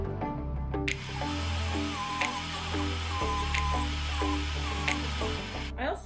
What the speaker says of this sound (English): Now I'm going to clean up the ends on my Fordham unitized sanding wheel